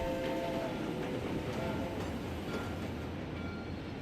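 A train runs on rails as a continuous loud rumble with faint rhythmic rattling and a brief tonal horn-like hint at the start, a steady rail-travel effect in a sound-designed audio drama.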